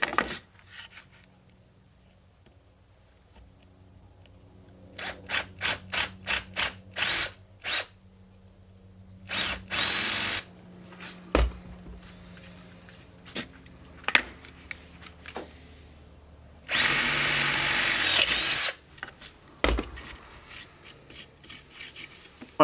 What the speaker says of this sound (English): I'm going to try and drill halfway through each side.